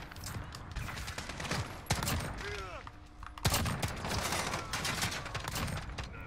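Rapid gunfire in Modern Warfare crackles nonstop in dense bursts. A couple of sharper, louder shots stand out, over a busy battlefield din.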